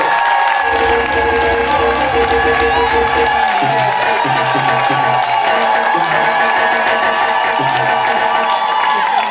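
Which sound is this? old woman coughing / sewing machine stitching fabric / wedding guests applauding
wedding guests applauding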